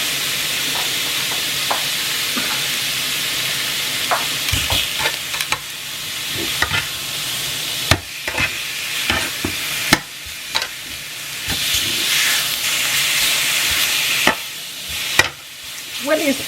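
Pork for larb sizzles and fries steadily in a pan, a constant hiss broken by repeated scraping stirs and occasional sharper knocks of the utensil, close and fairly loud with no talking.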